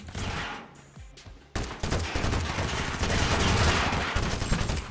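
Rapid SMG fire in the video game Totally Accurate Battlegrounds, dense bursts of shots crackling loudly after a brief lull, with no talk over them.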